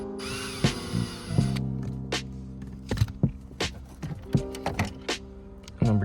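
A power drill backs screws out of an interior panel on an F-chassis MINI Cooper, with a sustained whir at first, then a string of short, close bursts with pauses between them.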